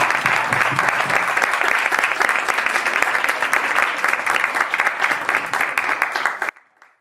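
Strong, continuous audience applause at the close of a music industry conference session, held steady for over six seconds, then cut off abruptly into near silence.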